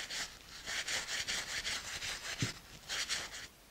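A cloth napkin rubs the fuzz off a quince, producing a steady run of quick, soft, brushing scrapes in close rhythmic strokes, fairly near and without talk.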